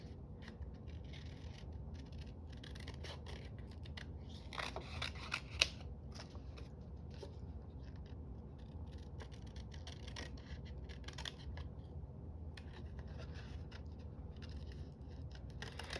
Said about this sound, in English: I want to cut these 2 butterflies out.